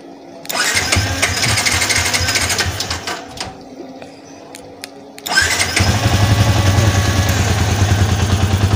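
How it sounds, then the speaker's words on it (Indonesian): A Yamaha Vixion 2015 motorcycle engine, started by remote starter, cranks and catches, idling steadily, then cuts out briefly before starting again and settling into a loud, even idle nearby. "ada tanda petir tanda petir ini adalah untuk menstarter motor ya starter motor dari remote ditekan dua kali"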